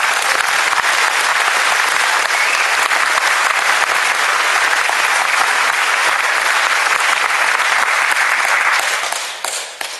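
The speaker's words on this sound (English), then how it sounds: "you can clap with me if you want" An audience applauds the London team at a ZDay 2011 gathering in London, a dense, steady wash of many hands clapping for about ten seconds before it thins out at the very end.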